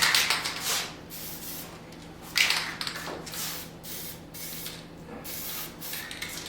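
Spray paint hisses onto a hand-forged metal plant hanger in several separate bursts of differing length, with quiet pauses between them, close and fairly loud.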